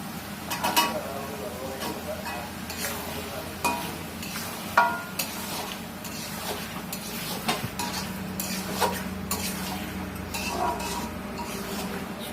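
Potatoes go into a pot of beef curry and are stirred, with a utensil scraping and clinking against the pot in irregular strokes over a light sizzle, while people talk at times.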